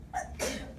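One short sneeze bursts out indoors, a quick two-part sound lasting under a second, moderately close and heard alone.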